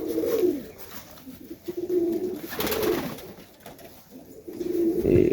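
Cooing of domestic Serbian highflyer pigeons in a flock of about forty birds, soft repeated coos rising and falling close by, several voices overlapping in bursts.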